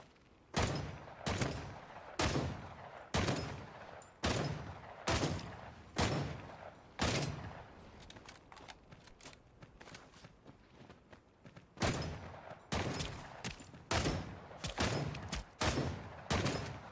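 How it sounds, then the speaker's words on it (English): Submachine gun fire in the shooter game Ashfall, loud sharp bursts and single cracks coming in clusters, with a quieter stretch of footsteps and shuffling in the middle. "New submachine gun."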